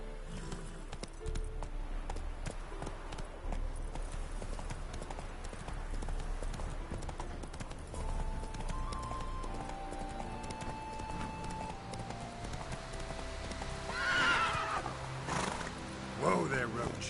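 Roach the horse in The Witcher 3 video game, hooves clip-clopping at a steady pace under game audio, with a whinny near the end and a voice talking.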